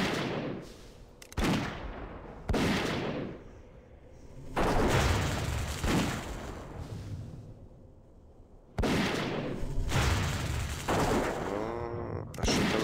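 Repeated loud hunter gunshots in World of Warcraft Classic, several sharp blasts spaced a few seconds apart with reverberant tails, some overlapping into bursts.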